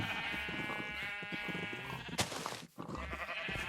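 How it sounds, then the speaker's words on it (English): Sheep bleat repeatedly in a Minecraft-style survival game while a wool farm is built, harmonic calls stacking over busy game ambience, with a sharp burst and a brief dropout near the end. "Grab us another sheep."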